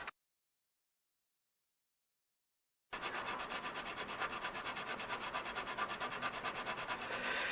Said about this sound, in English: This is draw filing.